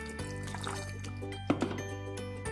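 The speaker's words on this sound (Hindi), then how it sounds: "मैं इसको मजीद इसमें थोड़ा सा पानी ऐड करूंगी ताकि ये धुल जाए" Water poured over strained milk kefir grains to rinse them, a steady liquid trickle with small splashy bumps midway, close and fairly quiet with no talk.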